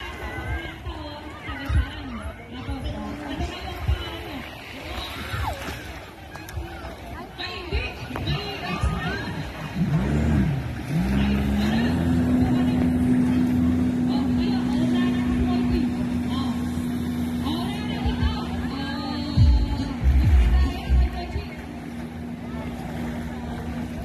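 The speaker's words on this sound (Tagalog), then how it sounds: "So, nagpapa-jetskie tayo ngayon." A jet ski engine runs near a beach resort, a steady motor drone that holds a sustained pitch and rises as it gets going, with people talking over it throughout.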